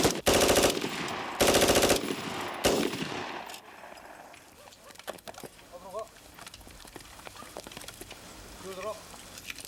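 Live-fire rifle shots at a marine corps shooting range, loud sustained bursts of automatic fire up front, then scattered sharper single cracks, with shouted commands heard between shots.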